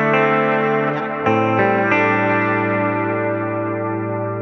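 Sustained electric guitar chords run through a Hotone Ampero II Stage with heavy delay and long-decay reverb, a few new chords struck and then left to ring and fade smoothly into a lush wash.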